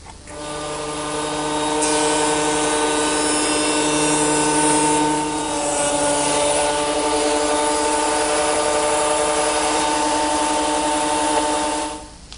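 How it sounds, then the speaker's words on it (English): Biscuit joiner whining steadily at close range as it cuts slots in hardwood, a sustained tonal motor drone that rises, holds for about ten seconds and then stops. "I want to cut some slots for these hardwood biscuits that are going to go along the joint line"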